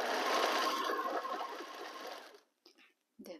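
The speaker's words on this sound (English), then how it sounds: "line everything and start sewing" A sewing machine stitches a quilt block in a close, steady mechanical whir for over two seconds, then stops, followed by a few faint handling taps and a short soft scrape.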